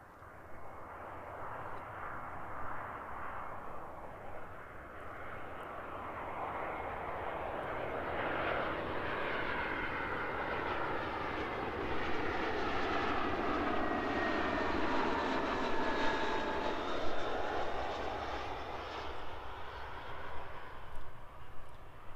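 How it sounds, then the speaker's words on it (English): A Jetstar Airbus A320 landing at Christchurch Airport, a broad, steady jet roar that builds gradually and holds loud and continuous across the whole stretch, with a rising whine in the engine tone and no talk over it. "Beautiful arrival there from the Jetstar A320"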